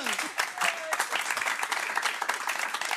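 An audience breaks into dense, continuous applause, many hands clapping together at a steady level, with a voice briefly audible over it.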